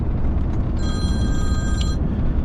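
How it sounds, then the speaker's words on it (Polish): A telephone rings once inside a vehicle on the road, a short electronic tone heard over loud steady road rumble. "widzę, że jakiś telefon dzwoni"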